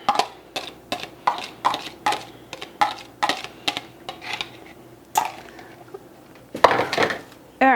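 Egg yolks being folded and stirred into a mashed potato mixture for baked mash potato bombs, heard as a series of close, sharp taps and scrapes of a utensil against the bowl in an uneven rhythm.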